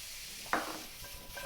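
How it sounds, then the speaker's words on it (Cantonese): Apple strips poured into a hot, dry wok over high heat give a single sharp clattering sizzle burst, followed by quieter scraping and stirring noises close by, with no talking. "全部將啲蘋果條倒晒落去，"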